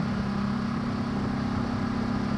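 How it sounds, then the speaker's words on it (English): A Ducati Multistrada 950 with its stock exhaust rumbles steadily with a low, even engine drone at a constant pace while riding in the mountains around Lake Como, with no voices over it. "This is the stock exhaust, the sound."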